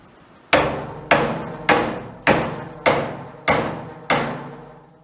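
Seven sharp hammer blows land at a steady, even pace, each a loud metallic crack with a short ringing decay, close by and with no talking.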